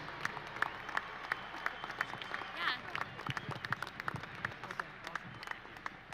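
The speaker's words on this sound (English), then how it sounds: "Round of applause, everybody, for Katie and Jason." A stadium crowd at a soccer farewell match ceremony applauds with scattered, distant-sounding claps and light cheering, moderately faint and steady over a rumbling open-air background.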